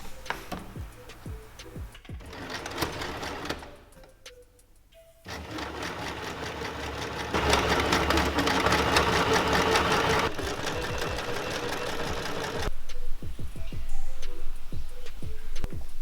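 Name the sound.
sewing machine stitching a shirt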